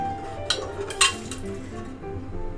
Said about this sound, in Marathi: आता त्याच्यात मी थोडे चणे टाकतोय.